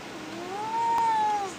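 Pet cat giving a single drawn-out meow, rising and then falling in pitch, close by and clear over a faint background hiss.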